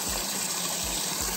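Water from a 500 GPH pump sprays and gushes steadily into a homemade livewell, a continuous close rushing wash with no talk over it.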